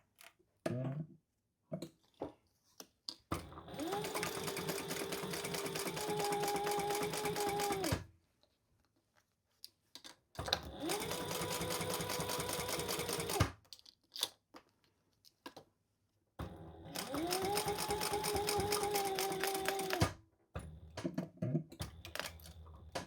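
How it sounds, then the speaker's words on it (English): A sewing machine stitches down the seam allowance on a thick crossbody bag. It runs in three sustained bursts of several seconds, each with a steady whirring hum. Short pauses fall between them, with a few light clicks and handling noises. "And then we're going to sew that down that at the seam allowance in the pattern"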